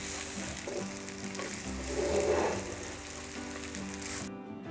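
Busan-style jjijimi pancakes frying in a hot, slightly smoking pan give a dense, continuous sizzle with a swell of crackle near the middle that drops off abruptly at the end.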